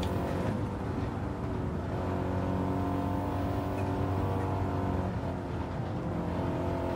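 A race car engine drones at steady high revs in Gran Turismo 7 time trial, a continuous loud buzzing tone that holds nearly constant throughout, with no talking.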